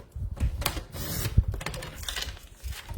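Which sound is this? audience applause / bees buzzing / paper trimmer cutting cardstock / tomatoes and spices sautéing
paper trimmer cutting cardstock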